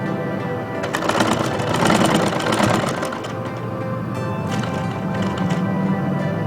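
A sewing machine stitches a lace border onto a dupatta, running in a steady fast mechanical whir with rapid needle clatter, close and continuous, without speech.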